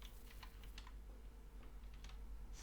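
Code typed on a computer keyboard, a quick string of light, close key taps over a low steady hum, with no talking.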